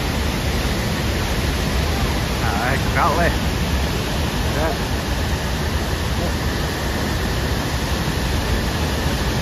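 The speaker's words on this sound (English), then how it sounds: "Fell waterfall." Waterfall in Yorkshire roaring as a steady, loud wash of rushing water, with brief talk from people nearby partly over it.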